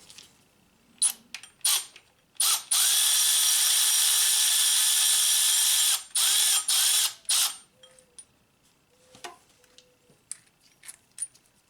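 Ratchet working a bolt on the power steering pump of a 2.4L Honda Accord (2003-2007): rapid close clicking in short bursts, with one long steady run of ratcheting, between quiet pauses and light metal clinks.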